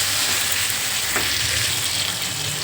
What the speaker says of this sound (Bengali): পেঁয়াজ আর টমেটোটা আলুর সাথে ভাজা হয়ে যাবে